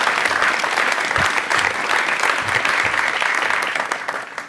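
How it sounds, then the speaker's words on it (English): An audience at a mayoral announcement on bike safety breaks into sustained applause, a broad, even wash of many hands clapping at once that holds steady for several seconds before easing slightly at the end. "I want to ask a round of applause for everyone who was part of putting together this plan"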